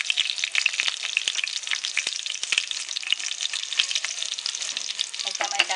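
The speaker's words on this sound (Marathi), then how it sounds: "तेल आपलं छान गरम झालेलं आहे, त्याच्यामध्ये मी टाकते लसूण, त्यात टाकते मिरची" Garlic and green chilies hit hot oil and set off a loud, crackling sizzle, dense with sharp spitting pops that run without a break from close up.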